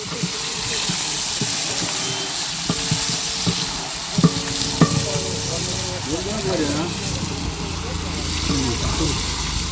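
A large pot heaped with onions frying in oil over an outdoor fire, cooked for a big village chicken feast in Sarjekot, Konkan; a steady broad sizzle runs throughout, with voices and background activity on top.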